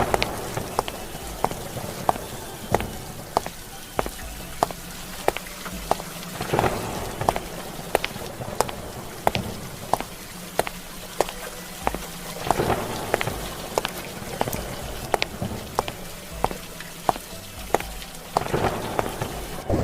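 Steady rain pours down, with scattered sharp drips and splashes striking a nearby surface throughout.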